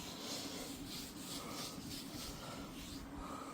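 A rag rubbed with oil across the steel surface of a Blackstone griddle being restored, a steady continuous rasping swish with faint rhythmic strokes, close and alone.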